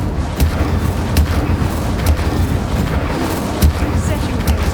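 An Incendio fire spell cast in Hogwarts Legacy gives a loud, dense rush of flame with deep rumbling booms that swell and pulse through the whole few seconds.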